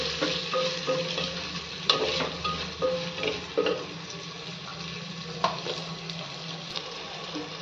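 Masoor pulao mixture with salt is stirred in a hot pan, with a steady sizzle under repeated scraping and clinking strokes of a spoon, close and without voices.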